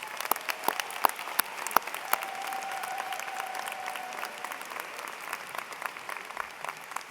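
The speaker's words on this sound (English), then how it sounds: "Please give them a round of applause." Audience applauding teachers at a 2016 Utica High School graduation, steady clapping from a large crowd in a hall with a few sharp nearby claps standing out, moderately loud throughout.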